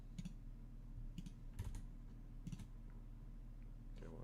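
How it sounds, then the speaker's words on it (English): Keyboard keys clicking in short scattered taps, a handful of sharp clicks over a steady low hum, with no voices. "I just want a keyboard click"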